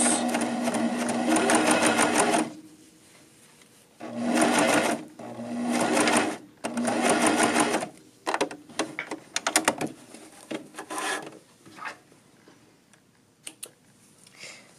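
A domestic sewing machine stitches back over a seam of a tunic in three loud close bursts of rapid whirring. Quieter clicks and handling noises follow as the fabric is adjusted.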